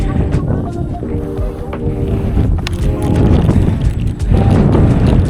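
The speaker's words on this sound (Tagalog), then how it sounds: "Dito nga mahangin no. Ang hangin nga." Strong gusty wind buffets the microphone with a constant low roar, while faint voices murmur beneath it.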